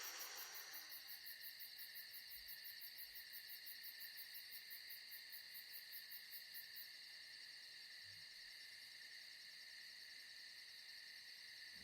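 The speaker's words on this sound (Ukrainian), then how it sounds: "І вслухаючись цвіркотіння" Crickets chirping in a steady, dense high-pitched pulsing chorus, faint and continuous, with a quieter fainter layer continuing after the pulsing fades.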